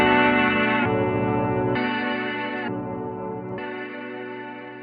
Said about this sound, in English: when you activate it, it makes the reverb length twice as long, and you also get an octave shifting effect every time you tap the switch